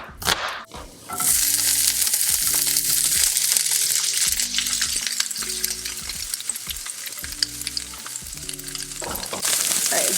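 Oil and vegetables frying in a pan, with a loud, steady sizzle running throughout and intermittent stirring or scraping clatter over it; there is no talking.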